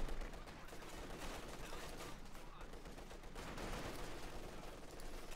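Sustained MG-42 machine gun fire in Company of Heroes 2, a fast continuous crackle of rapid shots, faint and distant in the battle mix, with a voice faintly underneath.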